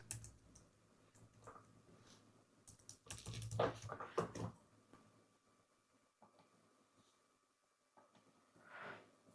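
Bursts of computer keyboard typing, soft and close, cluster in a brief rapid flurry of clicks with scattered single keystrokes and quiet gaps between.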